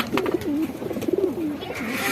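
Shahjahanpuri pigeons coo softly and close by, with a few rolling, wavering calls repeating over a low background hum.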